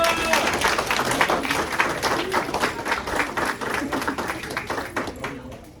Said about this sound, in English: Clap it up for Emelina